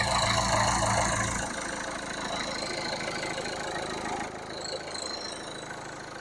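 An engine idles steadily at close range, a low rumbling drone that eases slightly after the first second and carries on evenly to the end.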